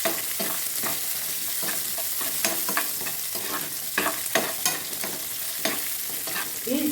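Chopped garlic and dried red chilies sizzle steadily in a hot pan for a Kerala colocasia-leaf thoran, with a spoon scraping and stirring in irregular bursts over the constant frying hiss.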